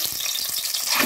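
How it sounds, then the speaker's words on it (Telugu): Boiled, slit eggs frying in hot oil for egg dum biryani, a loud, dense crackling sizzle throughout with scraping stir sounds, no talking. "ఎగ్స్ని ఇలా ఉడకపెట్టేసి ఘాట్లు పెట్టుకోవాలి. వీటిని ఫ్రై చేసుకోవాలి."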